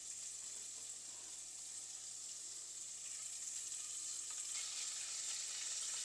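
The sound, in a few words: sautéing in pan for coconut rice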